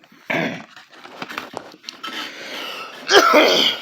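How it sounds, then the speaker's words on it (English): A person coughs repeatedly in rough, throaty bursts close by, ending with a louder harsh cough. "Sorry about all the coughing."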